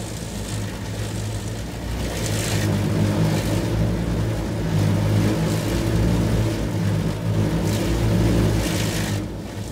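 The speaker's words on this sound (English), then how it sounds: "I'm assuming this is our spot-free rinse." Automatic car wash spraying a Lincoln Mark VII, a steady, loud broadband rush of water jets and machinery droning close around the car for the full length, with surges of hiss rising and falling.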